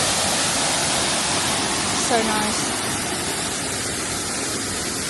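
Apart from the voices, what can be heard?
Cunca Pilas waterfall rushing water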